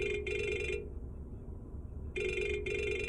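A phone rings with an incoming call during a home livestream: two electronic ring bursts, each a pair of quick trilling pulses, with a silent gap between them. Steady and fairly clear over low background hum.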